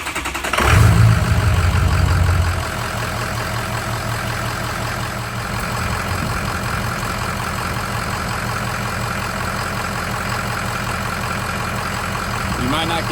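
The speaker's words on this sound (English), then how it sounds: "we're gonna go ahead and crank the truck up" A used diesel pickup truck engine cranks and catches with a loud starter whir and a brief roar, then drops into a steady, clattering diesel idle that runs on evenly close by, with someone talking faintly over it.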